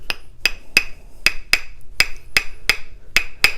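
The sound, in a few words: palitos wooden sticks struck together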